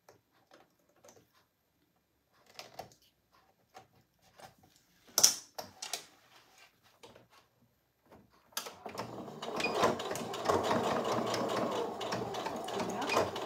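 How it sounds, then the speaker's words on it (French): After a few scattered quiet clicks and handling noises, a sewing machine starts stitching a seam with a steady, fairly loud whir that runs to the end. "je préfère venir refaire cette petite couture"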